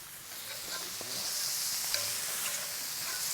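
Chorizo patties are broken up and stirred in a hot frying pan alongside scallops, giving a faint, steady sizzle with soft scraping and tapping of the utensil against the pan.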